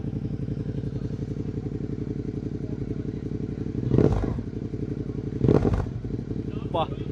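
Suzuki SV650 V-twin motorcycle idling with a loping, uneven exhaust burble, close and steady, rising in two short throttle blips before settling back to idle.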